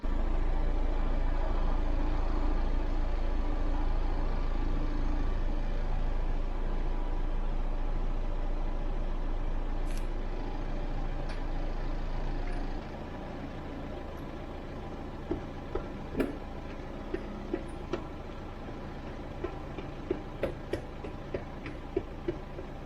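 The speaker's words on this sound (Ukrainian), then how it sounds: "запущу мотор і на холостом колесо буде крутитися і буде чутно" A Daewoo Lanos engine, freshly overhauled, idles with a wheel spinning: a steady, close mechanical hum whose deep rumble drops away about halfway through, leaving a quieter run with a light, regular ticking on top.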